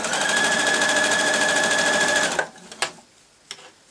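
A sewing machine stitching fabric along a zip runs in a fast, continuous whirring buzz for about two and a half seconds, then stops, followed by a few sharp clicks and knocks close by.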